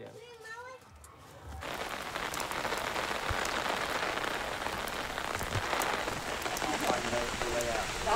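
Light rain falls steadily at a Cambodian temple at Banteay Chhmar, a dense continuous hiss of drops that takes over after a brief moment of voices at the start.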